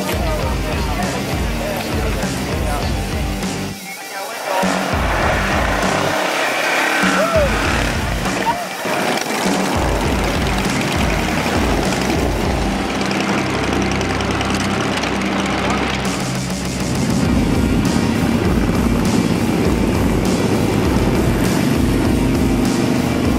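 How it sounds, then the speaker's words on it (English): Loud, continuous engine roar with shifting pitch, motorcycles revving and passing close by at a motorcycle rally, steady throughout with a heavier rumble near the end. "Motorcycles."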